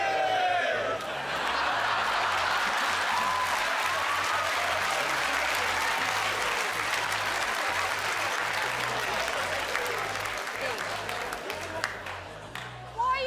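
A studio audience on a live television quiz show cheers and applauds, a dense, sustained wash of clapping with scattered chuckles and laughter that runs throughout and fades slightly at the end.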